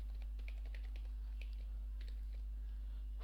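Quick, light keystrokes clatter on a computer keyboard while Java code is being written, an uneven patter of clicks over a steady low electrical hum.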